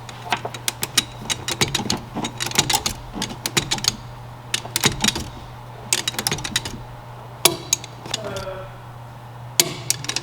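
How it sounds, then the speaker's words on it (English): Torque wrench tightening nuts to 25 foot-pounds on a 1982 Toyota in a shop: a run of sharp mechanical clicks and ratcheting taps in uneven bursts over a steady low hum, close and fairly loud. "And these we're going to torque down to 25 foot-pounds."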